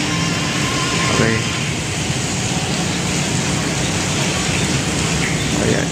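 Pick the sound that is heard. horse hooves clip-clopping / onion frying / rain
rain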